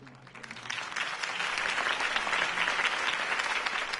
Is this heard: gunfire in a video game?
no